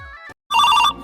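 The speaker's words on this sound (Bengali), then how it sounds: "ও আবার ফোন করেছে।" A mobile phone ringtone plays in short bursts, a bright electronic tone that cuts off into silence before a second, louder burst sounds close by.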